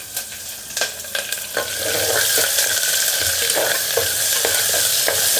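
Chopped onion with curry leaves frying in a pan, a steady loud sizzle that builds and holds, with a few light stirring scrapes near the start.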